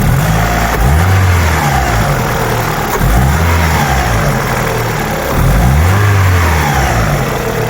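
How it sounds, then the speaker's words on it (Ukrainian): A car engine with a replaced used part revs up and down repeatedly at close range, rising and falling pitch over a steady idle rumble, loud throughout. "Дивимось реакцію двигуна."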